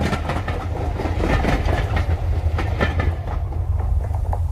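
A rapid train rushes past as a sound effect: a loud, close rumble with a rhythmic clickety-clack of wheels that fades slightly near the end, with no speech.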